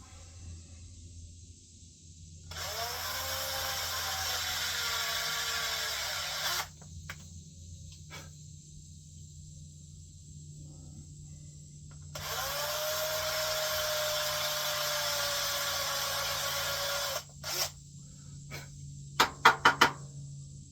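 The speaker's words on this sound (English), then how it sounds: "So now all I gotta do is drill them." A power drill boring through pre-punched holes, two long whining bursts of several seconds each separated by a pause, followed by a few sharp knocks and clicks near the end.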